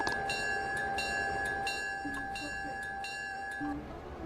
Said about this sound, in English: Hold on, I can't hear you because of train horns.